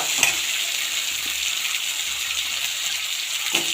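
Bitter gourd and turkey berry vegetables sautéing in oil for a tamarind curry give off a dense, even frying hiss up close, with a couple of soft stirring knocks and no voices.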